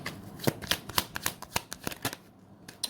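Tarot cards are shuffled close by in a rapid series of sharp, crisp riffling slaps and flicks that fade into a brief quiet gap near the end.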